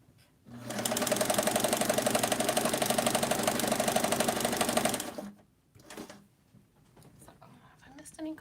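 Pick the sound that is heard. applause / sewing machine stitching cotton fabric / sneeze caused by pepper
sewing machine stitching cotton fabric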